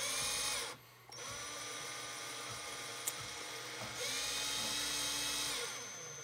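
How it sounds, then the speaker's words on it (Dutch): A power drill whirs continuously at high speed twisting coil wire, briefly cutting out and restarting, then shifting pitch slightly as it keeps spinning. "het makkelijkste is gewoon even snel zelf een setupje maken met een paar wachtels en een boormachine"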